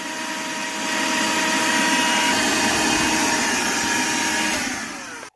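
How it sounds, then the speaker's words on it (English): A vacuum cleaner runs loud and steady while cleaning out the radio vents and cooling fan area of a Mercedes dashboard during a stereo replacement, starting up after a moment and cutting off at the end. "And I'm gonna vacuum out"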